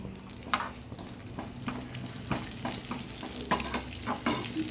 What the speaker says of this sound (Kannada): ಈಗ ದ್ರಾಕ್ಷಿಯನ್ನು ಇದಕ್ಕೆ ಹಾಕ್ತಾಯಿದ್ದೀನಿ ನಾನು